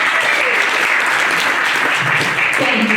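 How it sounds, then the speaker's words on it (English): Loud, dense applause from an audience at a senior variety show, a continuous wash of many hands clapping close by without letup. "Big round of applause for Gary."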